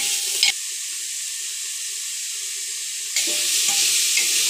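Grated onion fries in oil for chicken biryani, a loud hiss that drops to a low steady sizzle for a few seconds, then swells again with faint stirring scrapes.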